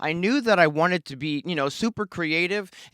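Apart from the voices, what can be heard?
No everyday noise stands out behind the speech.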